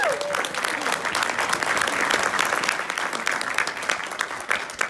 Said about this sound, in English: Give your dream a round of applause.